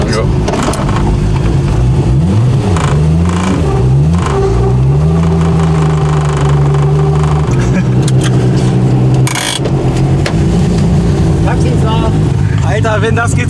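A Volkswagen Golf petrol engine revs and accelerates hard on a test drive, loud and close, its pitch climbing and falling through gear changes with a sustained drone between, while people talk over it.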